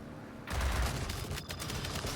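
Dense bursts of flak cannon fire from a plane in a video game start abruptly and keep up as a loud, rapid barrage of overlapping blasts.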